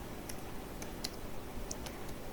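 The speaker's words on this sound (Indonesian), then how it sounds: "dengan mengetik" Computer keyboard keys tapped at a command prompt, a few sparse, faint clicks spaced unevenly over a steady background hiss, with no voice.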